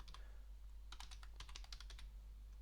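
Computer keyboard typed at a quiet desk, a quick run of light key taps in two short bursts over a low steady hum.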